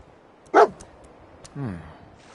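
Dogmeat, the dog companion in the video game Fallout 4, gives a single sharp bark followed by a softer whining yelp, close and clear over quiet game ambience.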